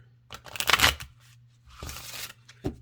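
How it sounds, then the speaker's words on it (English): Thin oracle cards with gilded edges from the Shadow & Light Oracle deck are shuffled by hand. Two crisp, papery bursts of shuffling are heard close up, separated by a pause and followed by a brief tap, with no talking. "some people like the sound of cards"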